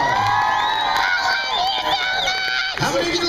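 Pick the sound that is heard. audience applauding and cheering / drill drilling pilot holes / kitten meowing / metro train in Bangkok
audience applauding and cheering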